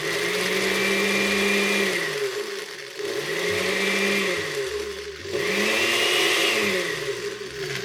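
A blender pulsing crushed ice for a Derby Daiquiri, three loud bursts of whirring motor and grinding ice that spin up and then cut out, close by, with no talking.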